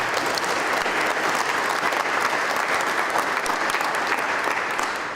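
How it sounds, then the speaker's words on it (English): An audience at a city and county minority business event gives a robust round of applause for local business owners, a loud, dense clapping that holds steady from start to finish. "So let's give them all a robust round of applause"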